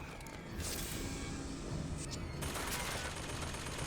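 Enemy gunfire in Bioshock Infinite crackles in a rapid automatic burst of shots, then the tone of the firing shifts partway through and it keeps going steadily. Close and fairly loud, with no voices.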